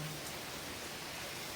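Steady rain falls outside a rented A-frame cabin, a soft, even hiss of drops heard from indoors at low volume with no voices.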